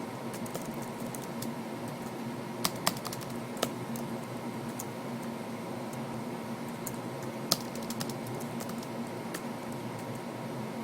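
Typing program code on a computer keyboard, with a few sharp isolated key clicks over a steady room hum, fairly quiet and sparse.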